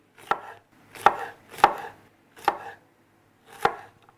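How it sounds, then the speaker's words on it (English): A knife slicing seitan very thinly on a cutting board, five distinct close chops spaced unevenly, with quiet pauses between them and no talking. "cut it very thinly."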